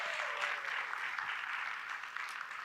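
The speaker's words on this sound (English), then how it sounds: "Can we please give them a round of applause?" A conference audience gives a steady round of applause for the speaker lineup, a dense, even wash of many hands at moderate distance that runs throughout without speech.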